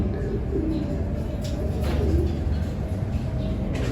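Pigeons coo softly from a loft where a purebred Crack 52 hen is kept, low repeated cooing blended with steady background noise and no talk.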